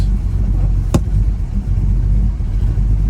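A 1972 Chevrolet Chevelle with an LS engine and dual exhaust runs close by, a loud steady low rumble throughout with one brief sharp click near the start and no talking.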